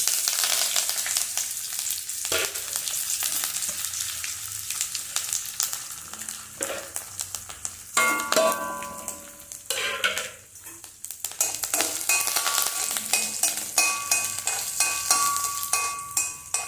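Mustard seeds, dried red chillies, urad dal and curry leaves crackle and sizzle in hot oil in a pan, with continuous popping and spattering plus occasional scrape of a spoon stirring.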